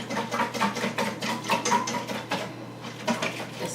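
Mustard and lemon juice whisked into mayonnaise in a bowl, a quick run of rhythmic clicking, tapping strokes close up, with a brief pause before the beating resumes.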